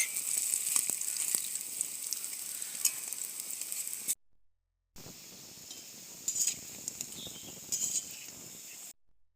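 Red lentil pakoras deep fry in hot oil with a steady, fairly soft bubbling sizzle and occasional light clinks, cut by a brief silent gap before the frying resumes.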